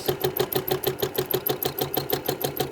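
Sewing machine stitching free-motion teardrop quilting along a seam line, a steady rapid mechanical chatter with even repeating pulses, close and alone without talk.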